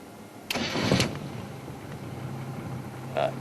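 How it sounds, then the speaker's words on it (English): A safari vehicle's engine cranks and catches with a short burst, then settles into a low idle, followed by a brief mechanical whirr near the end, all recorded close up. "let me just try and turn the car a little bit"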